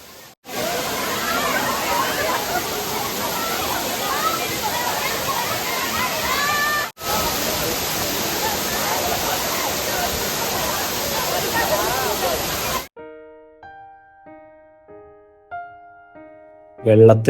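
A loud, steady roar of the Anachadikuthu waterfall rushing continuously for most of the clip, then cutting out to a few faint tones and a short noise burst.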